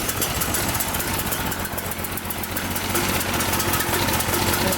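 A brand-new 420cc custom dune buggy engine idling on a cold day just after its first pull start, a loud, steady rumbling chug close by with no talk.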